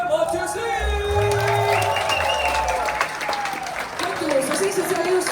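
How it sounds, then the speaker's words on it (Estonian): A concert hall audience gives a big round of applause for the sound engineer, dense clapping with some whoops, held loud and steady throughout, while a voice and music carry on over it. "Teeme suure aplausi meie helirežissöörile Mattias Liiv!"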